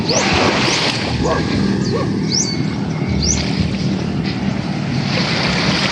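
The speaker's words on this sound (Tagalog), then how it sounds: "Dito ay grabe ang ganda ng" Ocean waves wash around a small fishing boat out at sea, under heavy wind buffeting the microphone. The steady, loud roar of water and wind runs throughout, with a few faint high chirps above it.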